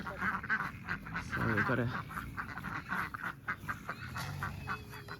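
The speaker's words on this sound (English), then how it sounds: "ducks, which is good because we've got excess ducks." Ducks quacking on a farm with a fenced area near a dam, the calls rising in a burst amid outdoor noise while a person talks over them.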